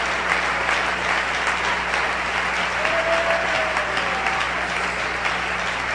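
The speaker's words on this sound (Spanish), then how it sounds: "Denle un aplauso al Señor." A church congregation gives sustained, dense applause in praise during a service, a steady loud wash of many hands clapping that fills the room without a break.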